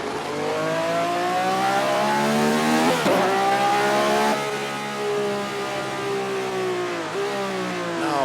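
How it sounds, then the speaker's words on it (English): Car engine revving hard and continuously in a hot summer setting, loud and close with rising and falling pitch sweeps and a sharp shift around the middle, no voices over it. "hopefully you're able to hear my voice over the sound of the car."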